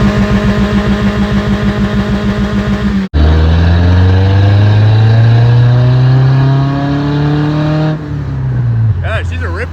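A Ford Ranger 2.5L four-cylinder with its exhaust deleted idles with a rapid raspy pulse, then revs up loud and close in a long rising drone before dropping back to idle.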